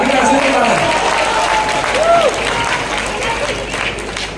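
Sustained audience applause at a seminar gathering, dense clapping throughout, with a voice speaking over it.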